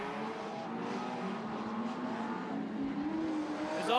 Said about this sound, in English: Close racing here tonight for our Super Street sedans.